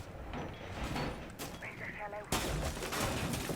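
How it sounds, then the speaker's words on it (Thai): A gunshot fired by a teammate in Rainbow Six Siege: a sudden loud crack followed by a dense burst of gunfire, after quieter in-game noises and a player speaking. "โดนเพื่อนยิงตาย"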